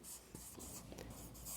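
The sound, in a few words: writing on a board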